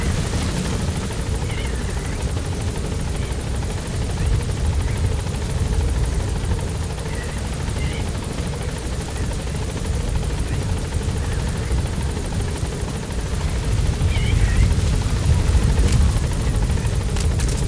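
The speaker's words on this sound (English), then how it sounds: "Support helicopter has arrived." Support helicopter rotor beating steadily in the video game Metal Gear Solid V, a loud continuous chop with engine roar that holds for the whole stretch, with no talk over it.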